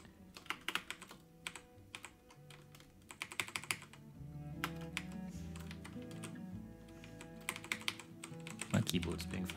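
Fingers tap quickly on a computer keyboard while entering a seed for the game Farthest Frontier, with bursts of crisp, close keystrokes separated by short pauses and a voice talking faintly underneath.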